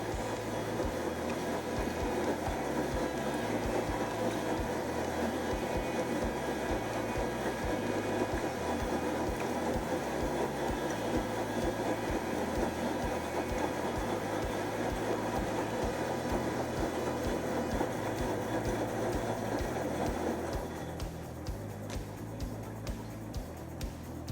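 Samsung Ecobubble washing machine with its drum turning at 80 RPM, giving a steady, fairly loud whirring hum that runs unbroken before dropping to a quieter level near the end.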